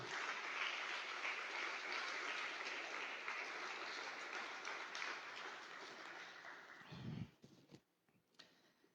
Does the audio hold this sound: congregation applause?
yes